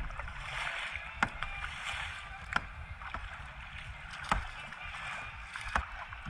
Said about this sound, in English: He will do all the paddling